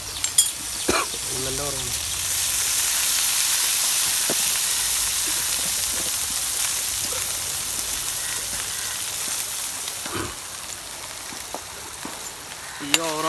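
Small river fish fry in a pan over low heat, giving a steady close sizzle with occasional stirring clicks and scrapes and a few brief voices.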